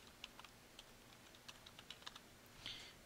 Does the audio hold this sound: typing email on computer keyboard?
yes